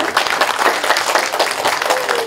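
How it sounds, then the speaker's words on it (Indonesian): A loud burst of dense crowd applause greets an official guest at a government quarantine ceremony in Pangkalan Bun, Indonesia, with rapid overlapping claps running steadily for a couple of seconds. "Kita berikan tepuk tangan untuk beliau."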